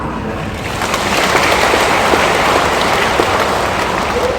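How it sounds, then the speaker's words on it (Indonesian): A sermon audience breaks into applause, a dense wash of clapping that swells after a moment and holds steady, loud and fairly close, with no voices over it. "Tepuk tangan Anda."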